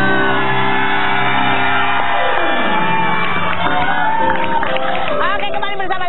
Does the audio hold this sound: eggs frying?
no